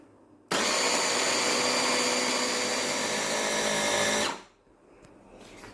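Electric chopper whirring at full speed as it finely minces a chicken nugget mixture, a loud steady motor roar that starts abruptly and cuts off after about four seconds, leaving quiet room sound.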